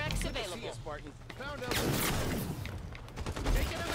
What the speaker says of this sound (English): That is a sniper rifle guy.